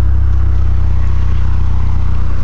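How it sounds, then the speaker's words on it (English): Steady, loud low-pitched exhaust drone from a 2008 Mazda Speed 3 running close by, a constant rumble holding even throughout with no talk. "I know you wanted to hear the car. You can probably hear the exhaust."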